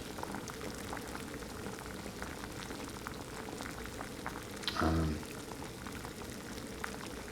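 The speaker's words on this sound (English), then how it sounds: "On 1 ounce of fuel, I should be able to get two cups of water to a boil" Two cups of water boil in a pot over a small alcohol stove in calm, mild weather, a steady quiet bubbling and hiss with one brief louder splash or clatter midway.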